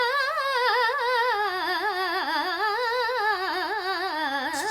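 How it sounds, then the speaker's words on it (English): A singer performs an Akar Taan in Hindustani classical style, a fast run of sustained open vowel with rapid wavering pitch ornaments rising and falling, solo and close, for about five seconds. "Akar Taan sounds something like this."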